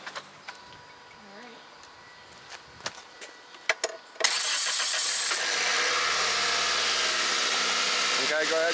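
A Toyota Corolla with a dead starter, key held in the start position: faint clicks and taps come first, then a loud, steady whir starts abruptly and holds without the engine catching, close by, with no speech.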